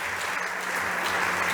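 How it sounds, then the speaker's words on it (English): Dense, steady audience applause at a startup competition stage event, a continuous wash of many hands clapping at even loudness throughout. "please, big applause to both"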